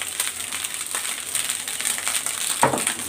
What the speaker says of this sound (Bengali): আর ওই তো ভাত ভাজা হয়ে গেছে, শব্দই বোঝা যাচ্ছে।